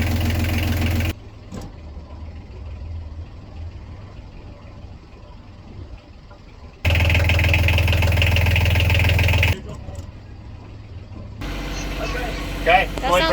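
A boat's engine idles in low, steady bursts that cut in and out, with quieter stretches where people talk over it and hull noise carries.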